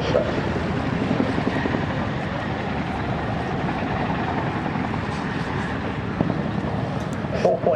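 Chinook tandem-rotor helicopter flying a full display at the 2008 Duxford Airshow, a steady broadband rotor drone heard from a distance across the airfield, with voices talking over it throughout.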